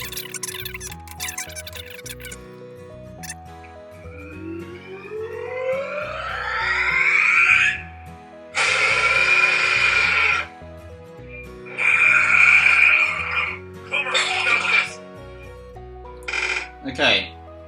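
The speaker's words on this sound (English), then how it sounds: "Okay, so alarm now is on." A GTFO Sleeper alarm clock sounds in bursts: a rising sweeping tone, then loud buzzing beeps repeating with short pauses between them.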